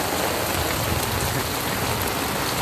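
Steady rain pours down as children bathe in it, a dense, even hiss of drops hitting surfaces that stays constant and close throughout, with no voices.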